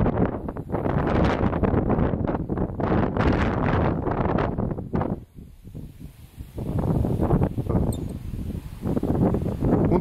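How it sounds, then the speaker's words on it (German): Loud, buffeting wind gusts roar across the microphone of a DJI Mavic Pro drone flying in a storm, easing briefly midway before blasting back at full strength. "Aber jetzt haben wir volle Böe wieder."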